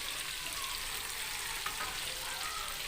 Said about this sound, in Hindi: बाकी के जो अपने विंग्स हैं मैं वो सारे फ्राई कर लूँगी